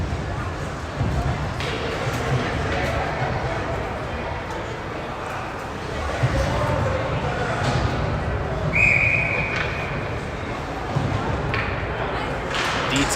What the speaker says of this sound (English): We'll get a whistle.